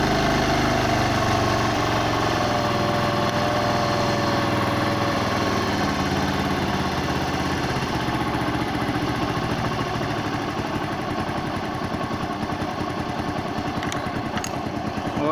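A Bajaj motorcycle engine idles steadily with a carburettor being tuned, its low throb thinning slightly as the RPM is brought down, loud and close with no talk.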